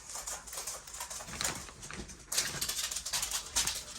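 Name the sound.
dog waking up and shuffling in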